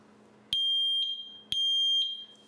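A Sensereo MS-1 interlinked smoke alarm sounds its test tone: two loud, shrill, piercing beeps, each followed by a softer repeat, close by in a quiet room.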